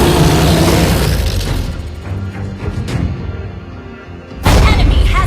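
A turret being destroyed in a Beatrix sniper-and-shotgun match of a mobile battle game: loud booming blasts and crackling game effects, with a heavy impact near the end.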